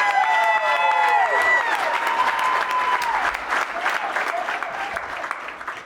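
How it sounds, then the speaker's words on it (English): Audience applause fills a hall after a speaker asks the crowd to clap for a man named Jonathan. It comes as loud, continuous clapping with some cheering, and a voice with harmonic tones sounds over the start before fading under the crowd. "Please give a round of applause to Jonathan."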